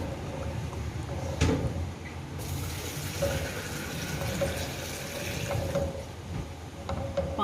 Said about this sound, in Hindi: दही और वो बेसन डाल के जो लस्सी बनी थी वो अब मैं इसके अंदर ऐड करूँगी।